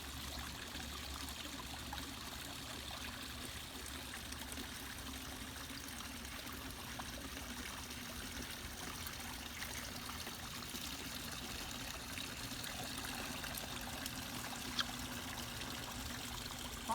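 Soft, steady trickle of running water from a garden water feature, quiet and continuous, with no voices.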